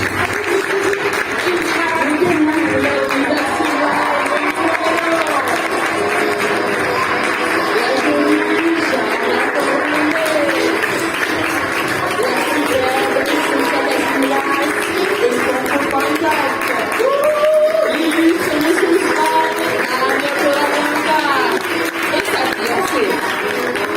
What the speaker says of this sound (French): je vous demande de faire un tonnerre d'applaudissements pour Basma Emrani.